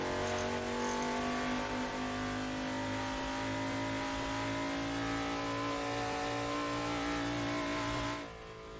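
A car engine revs in a racing video game during an expressway run, its loud, continuous note holding high and steady with a layered harmonic drone, then suddenly dropping away near the end.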